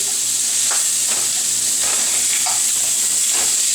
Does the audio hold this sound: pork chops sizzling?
yes